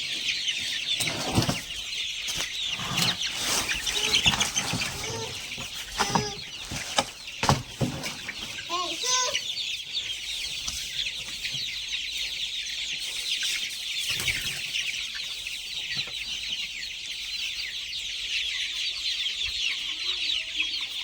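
Young chicks eat larvae fed to them, giving off repeated clucks and chirps along with bursts of wing flapping and pecking, close and fairly quiet over a steady hiss.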